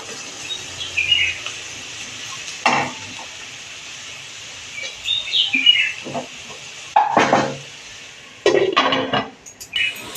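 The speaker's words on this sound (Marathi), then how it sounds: "आता वर झाकण ठेवणार आहोत" Metal lid set onto a pot of grated sweet potato cooking on the stove, producing a few scattered clanks and clinks over a faint sizzle, close and moderately loud.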